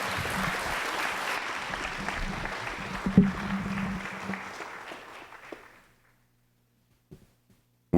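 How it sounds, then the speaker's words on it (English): Applause from an audience at a police honor ceremony, steady and moderately loud for about five seconds before tapering off into near silence, with a couple of faint knocks near the end. "Round of applause."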